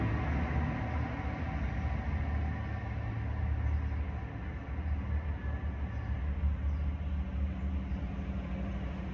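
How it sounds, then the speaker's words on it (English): Grain trucks, fully loaded and coming up from the port, pass by outside as a steady low rumble and hum that lasts throughout with no break. "there's a lot of trucks going past, coming up from the port, fully loaded with grain"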